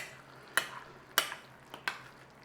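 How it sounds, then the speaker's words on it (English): Spoon scraping through a pasta and lentil bake in a dish that has started to catch on the bottom, three distinct stirring scrapes spaced about half a second apart, close and fairly quiet, with no voices. "We need to give it a stir."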